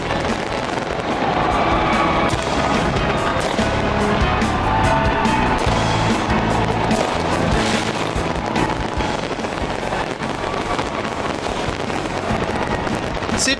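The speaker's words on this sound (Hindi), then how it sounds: "सिडनी हार्बर से आतिशबाजी की शुरुआत हो गई।" Dense, continuous crackling and booming New Year fireworks over Sydney Harbour fill the scene at a steady loud level, with crowd noise blended underneath.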